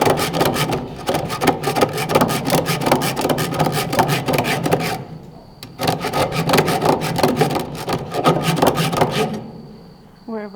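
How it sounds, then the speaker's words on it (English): Wooden window edges being shaped with a hand rasp, a dense run of quick, gritty scraping strokes close up, pausing briefly midway and again near the end. "We're rasping the edges."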